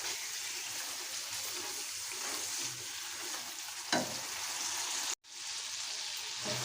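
Chicken karahi with cumin powder sizzling steadily in oil as it is stirred, a continuous close frying hiss with a couple of brief stirring scrapes and a momentary dropout near the end, no voices.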